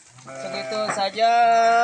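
A sheep in a livestock pen at Saguling bleats loudly and close by with one long, wavering, nasal call that rises and holds steady to the end.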